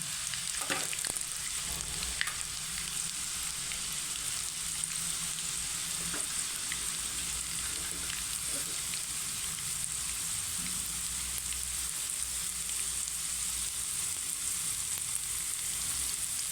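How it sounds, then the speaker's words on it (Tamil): About ten garlic cloves fry gently in a pan on a low simmer, giving a steady, even sizzle throughout, with a few faint utensil taps now and then and no voices. "இப்போ பூண்டு ஒரு பத்து பல்லுக்கு பூண்டு சேர்த்துடலாம் அதோட இப்போ சிம்லேயே வச்சு பூண்டு கொஞ்சம் வேகிற மாதிரி இது பண்ணுவேன்"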